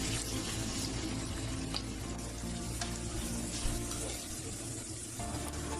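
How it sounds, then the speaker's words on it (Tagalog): Garlic and spices for Ilocano chicken igado sizzling in hot cooking oil, a loud dense continuous crackle and hiss with occasional stirring clinks, no talking. "mainit na yung mantika, ilagay natin yung rekado"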